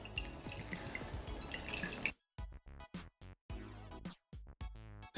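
Juice from grated cassava pours and drips into a sink or basin while it is drained for Jamaican sweet cassava bammy. A steady trickling stream runs for about two seconds, then breaks into short, close splashes and drips.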